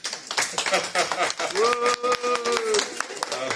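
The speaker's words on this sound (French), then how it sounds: "Est-ce qu'on peut les applaudir?" A congregation at a Sunday church service claps, a busy patter of hands mixed with voices, including a sustained raised voice or cheer in the middle.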